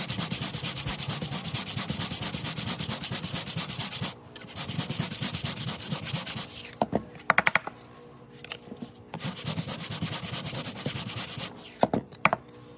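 Steady rhythmic rasping of sandpaper rubbed back and forth on a wooden D20 truck body, with brief pauses and a few sharp taps between strokes.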